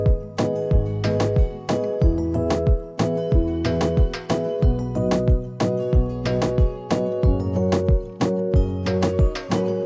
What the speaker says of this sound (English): I did bring in what's known as a timbal